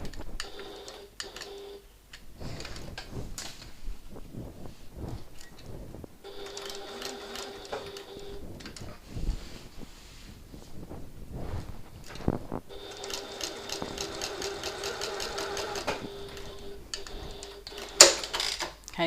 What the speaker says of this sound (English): I'm just sewing around this box